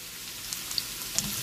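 Vegetables frying in a pan for a coconut red snapper dish, a soft steady sizzle with a few light pops and spatters, close and quiet.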